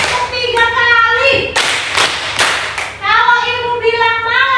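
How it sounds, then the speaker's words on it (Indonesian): A class clapping hands together in a counting game: a burst of several loud, close claps in a row, framed by a teacher's voice speaking before and after. "Ibu bilang selamat pagi, silakan tepuk 1 kali."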